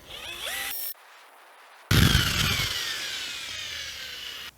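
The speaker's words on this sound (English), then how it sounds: "the epoxy is so thick, it's going to want to grab and spin that bucket" A power drill with a mixing paddle churns thick epoxy in a bucket for repairing a cracked sink, a loud steady whirring grind that cuts out briefly, then returns louder with a low rumble and sustained whine.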